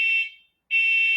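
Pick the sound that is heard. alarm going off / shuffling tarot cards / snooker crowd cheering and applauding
alarm going off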